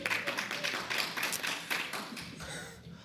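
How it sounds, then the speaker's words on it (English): An audience at a county board candidate forum claps for a few seconds, dense even patter of hands that holds steady and then slowly fades. "please refrain from applause until everybody is finished"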